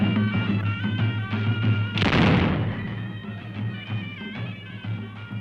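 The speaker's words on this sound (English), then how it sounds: "The gunshot is a signal that the workers are about to set off." At a community celebration in Algeria, a single loud, sharp gunshot signals workers to set off; it rings out midway and decays over half a second, over a steady droning musical background.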